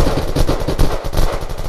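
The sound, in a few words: peacemaker gunfire in the video game Unturned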